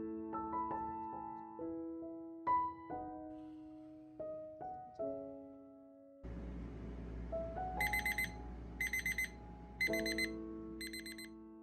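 A kitchen timer stuck to a fridge goes off while a cake bakes, sounding four short bursts of rapid electronic beeps over soft background music.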